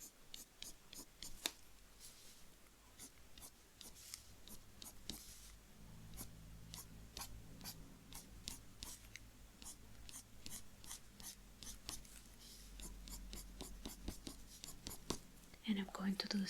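Fine pencil strokes scratch across paper while fur is being drawn, a steady run of soft, quick scratching flicks heard close, faint and continuous beneath occasional quiet talk.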